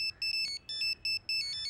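A mobile phone rings with an incoming call, its bright electronic tone repeating in short regular pulses, clear and fairly close, with no one speaking.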